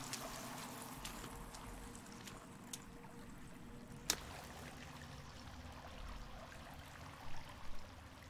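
Faint running water from a stream in The Forest survival game, a steady soft wash with a couple of small clicks and light knocks near the end.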